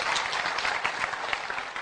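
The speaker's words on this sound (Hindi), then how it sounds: "जोरदार तालियां बजाओ भाई देश के" An audience at a seminar claps loudly and continuously, dense close applause with no voice over it.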